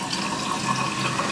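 Tap water runs steadily over a blender blade while it is rinsed, a loud, close, continuous splashing rush with no pauses or voices.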